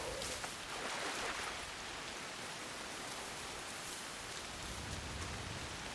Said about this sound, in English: Look, it's rainy, it's windy, and you can actually tell.